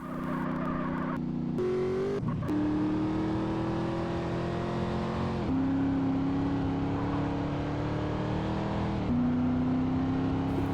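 A V8 rear-wheel drive sports car engine in a GTA video game revs loudly and steadily, with several climbs in pitch broken by brief dips as gears shift, heard close and alone.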